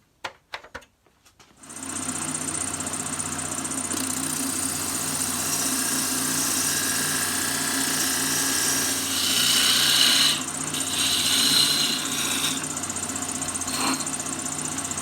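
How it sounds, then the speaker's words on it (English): A wide diamond-shaped parting tool cuts into a spinning piece of wood on a lathe while an angel ornament is turned, a steady, close whirring hum with a slightly rising scrape as the cut deepens. "use a nice wide diamond shaped parting tool to cut that in"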